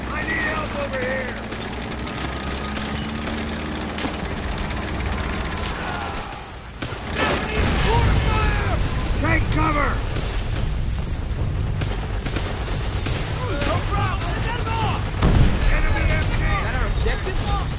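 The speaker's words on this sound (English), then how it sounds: "Our tanks are moving up" Battlefield din from the Call of Duty: World at War campaign as tanks advance: continuous rumbling engines and treads mixed with repeated gunfire and booming explosions, loud and dense throughout, with shouted voices over the chaos.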